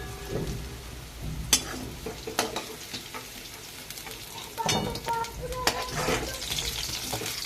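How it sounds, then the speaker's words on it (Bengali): Potatoes fry in hot oil with a crackling sizzle. Utensil clatters and splashy bursts come as pieces are lifted out, and there is no speech. "আলুগুলো ভাজা হয়ে গিয়েছে। এরপরে আমি আলুগুলোকে তুলে নিচ্ছি"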